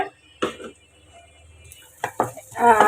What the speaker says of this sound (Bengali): পেঁয়াজ কুচি এবং মরিচ কাটা দিয়ে দিলাম দিয়ে এখানে এগুলোকে একটু ভালো করে আমি নেড়ে নেব একটু ভাজতে হবে